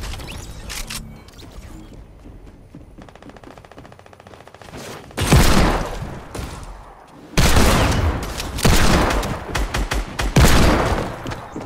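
Hand cannon gunfire in the video game Fortnite, with loud bursts of repeated shots in two heavy volleys after quieter, softer game sounds.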